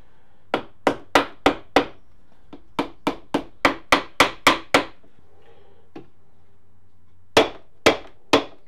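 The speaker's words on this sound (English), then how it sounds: "So I'm going to give it a bit of a tap around the edge" A rubber mallet taps around the edge of a Suzuki Bandit motorcycle gearbox part in close, sharp knocks, first in quick runs of several strikes, then a pause and three final taps.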